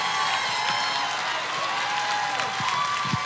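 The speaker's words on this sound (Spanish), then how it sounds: "Un aplauso parado." Standing ovation from a live concert crowd at a Desde Cero tour show, a dense, steady wash of clapping and cheering filling the whole stretch at an even, loud level.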